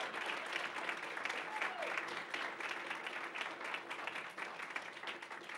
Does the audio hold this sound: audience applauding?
yes